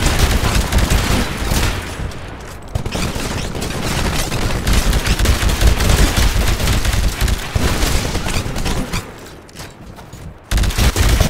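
Heavy small-arms gunfire against a Titan in the Titanfall video game: dense, continuous rapid bursts with booming impacts, loud and sustained, pausing briefly a few times.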